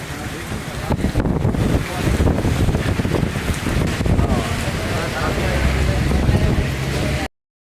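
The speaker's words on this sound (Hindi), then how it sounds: "तेज तूफानी हवाएं चलनी शुरू हुई और फिर साथ ही मौसलाधार बारिश का सिलसिला भी शुरू हुआ।" Stormy winds with heavy rain roar loudly and continuously, rough gusty buffeting battering the microphone up close before cutting off abruptly.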